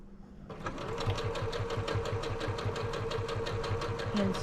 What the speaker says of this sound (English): And sew it down.